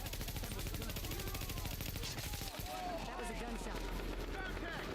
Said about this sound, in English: That was a gunshot.